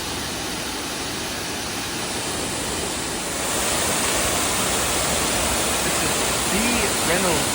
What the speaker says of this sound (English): This is R.B. Ricketts Falls. It's a double falls because there's a separate creek on the side coming in.